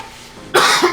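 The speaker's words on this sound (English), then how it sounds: "I have a cough." A single loud close cough, abrupt and rough, with a short second burst at the tail.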